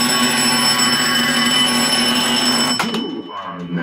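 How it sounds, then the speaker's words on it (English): A bell rings inside a pinball table, sounding as a steady sustained ring layered over the machine's electronic hum, then cutting off abruptly near the end. "this table has a bell inside"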